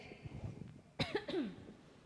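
A woman coughs during an online children's church service, a sharp, close burst followed by a couple of quick raspy aftershocks, over faint background murmur.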